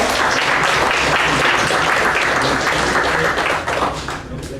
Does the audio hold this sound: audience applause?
yes